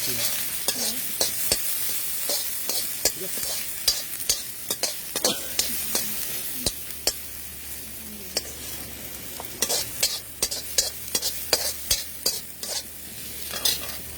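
Garlic and chopped onion frying in a pan, a steady soft sizzle broken by frequent spoon scrapes and stirring clicks, close and alone with no voices.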